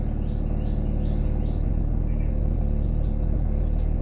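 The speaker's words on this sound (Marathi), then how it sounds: "लय दिवसाने चालू केलं गाडी." A vehicle engine that has sat unused for many days runs with a steady low idle rumble, close and constant throughout, while faint bird chirps sound in the background.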